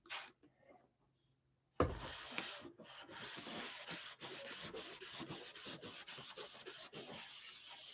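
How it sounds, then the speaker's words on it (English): A short scrape of sanding, a pause, then a steady back-and-forth rasp of sandpaper on a surface, close and continuous with rhythmic strokes. "You can thank all this sanding to Big Jim Lynch."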